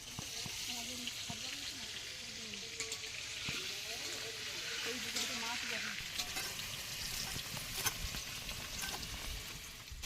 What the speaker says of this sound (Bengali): এবার কিন্তু মাংসের জন্য আলুটা ভেজে নেবো, তেল দিয়ে দিচ্ছি।